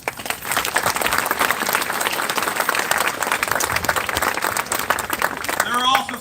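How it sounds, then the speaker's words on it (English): Sustained applause from the audience at a graduation ceremony, many hands clapping steadily and close, with a voice beginning to speak over it near the end. "please give them a round of applause"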